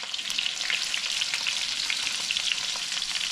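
Wild morel mushrooms sautéing over high heat, a bright crackling sizzle with small popping spatters, steady and close.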